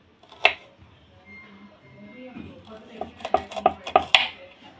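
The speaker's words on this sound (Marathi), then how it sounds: "बारीक बारीक अशा ह्याच्या फोडी करून घ्यायच्या आहे" A knife chopping spiny gourd (kartoli) into small pieces in a home kitchen: one crisp knock early on, then a quick run of sharp, close taps on the board near the end, with faint background clatter.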